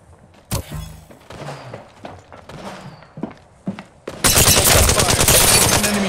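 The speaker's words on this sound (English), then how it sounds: "They're shooting at me." Gunfire in the battle royale game Apex Legends: scattered single shots and footsteps at first, then a loud, sustained burst of rapid automatic fire over the last two seconds, with no talking.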